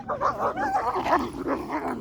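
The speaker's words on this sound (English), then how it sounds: "So the dog's playing up." A dog barks and yips repeatedly in quick, uneven bursts nearby, with whimpering tones between the barks and a low background hum.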